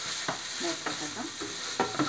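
Chicken keema frying in a pan, with a soft sizzle broken by a few scraping stirs of a spoon at uneven intervals, close and moderately quiet.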